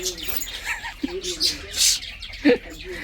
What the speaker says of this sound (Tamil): இங்கே பார்த்தீங்கன்னா லவ் பேர்ட்ஸ் லவ் பேர்ட்ஸ் இங்கே இருக்குது